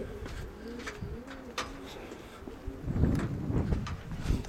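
Pigeons coo in a loft, a steady run of soft low rolling calls from several birds close by, with rustling and shuffling growing busier toward the end.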